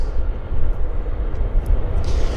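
BAe 146 four-engine jet rolling for departure at Vancouver airport, a loud, steady broadband engine roar that holds throughout with no voices.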